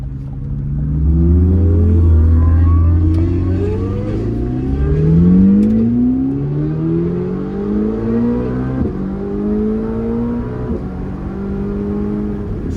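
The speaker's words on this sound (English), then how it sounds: "the turbo sounds, they make all the right noises" A turbocharged car accelerates hard, its engine note rising steadily in pitch through several gear pulls with brief drops between shifts, loud and close throughout with no talk over it.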